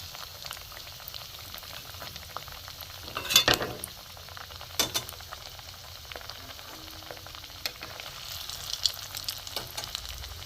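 Carrot pieces for a syrupy carrot sweet fry in a pan with a steady close sizzle. A few sharp clinks and scrapes of stirring rise above it midway through, and no one talks.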